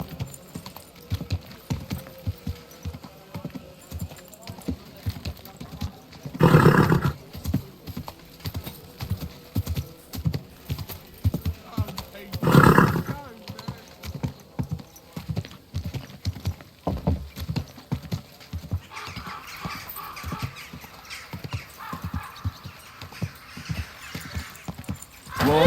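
A horse in Kingdom Come Deliverance 2 clip-clops along in a steady walking rhythm, with two loud whinnies breaking in, the hoofbeats continuing close and clear, joined by other ambient game sounds near the end.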